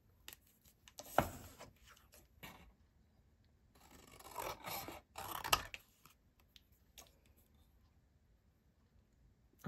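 Scissors cutting a paper heart out for a collage card, a few short close snips and rustles of paper separated by quiet pauses, soft overall.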